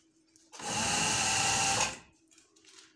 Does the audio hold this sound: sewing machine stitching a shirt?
yes